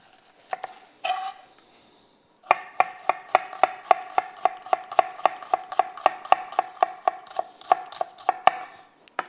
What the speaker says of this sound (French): Et l'échalote que l'on va ciseler.